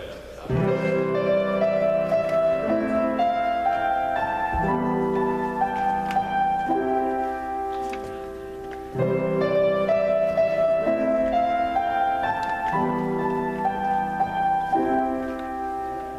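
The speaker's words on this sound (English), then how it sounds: "okay, so first version of our song sounds like this" A class-made song plays in its first version, with sustained keyboard-style chords and a steady bass line repeating across two similar passages, fairly loud and with no talking over it.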